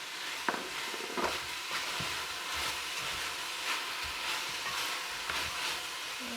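Meat frying in a pan with spices, tomato and salt, a steady close sizzle with occasional stirring scrapes and pops, no talking.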